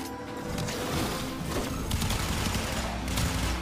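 Rapid gunfire from Akstiletto Prime pistols in a video game, a dense, continuous loud barrage of shots with crashing impacts throughout.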